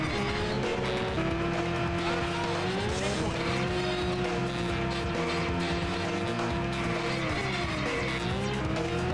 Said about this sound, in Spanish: Derrapa.